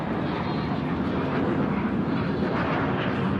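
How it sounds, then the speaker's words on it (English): A fixed-wing airplane passes overhead during an outdoor game, its steady broad roar filling the whole stretch at moderate loudness, constant and unbroken. "There's a plane flying over."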